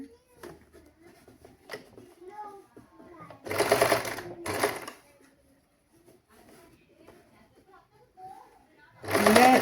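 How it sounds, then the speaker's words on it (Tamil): A sewing machine stitches a frock in two short bursts near the middle and one more at the end, loud and close. Someone talks quietly in the gaps between the bursts. "இதில் வந்து நான் ஒரு அரை இன்ச்சு எடுத்து தான் நான் தைக்க போகிறேன்."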